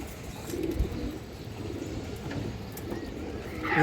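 Green-necked pigeons coo in a low, steady murmur across a pigeon market pen, with faint chirps and background bustle mixed in.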